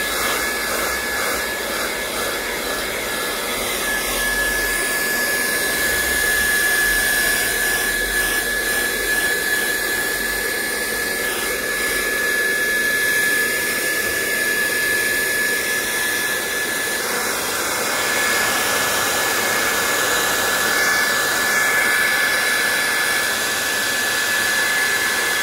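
Hot air blower heats a Motorola Android One phone charging board, a steady loud whooshing airflow with a thin high whine running continuously throughout, no talk.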